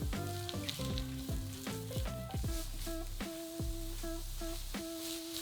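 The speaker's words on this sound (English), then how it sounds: "Now add a carrot and a stick of celery that have been finely diced and 3 finely diced chestnut mushrooms and cook for a further 2 to 3 minutes." Finely diced carrot, celery and chestnut mushrooms sizzle steadily in a hot pan, a close, continuous frying crackle with no one talking; several sharper tonal clinks ring out over it.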